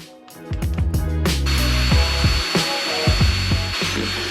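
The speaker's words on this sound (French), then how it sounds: "nous commençons le perçage pour l'installation des rails en dessous du traîneau" A power drill bores holes into a Pelican sled to mount rails underneath, making close, rising and falling whirring bursts with scraping bits between them.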